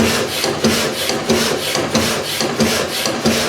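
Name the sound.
tool and cutter grinder machining cast iron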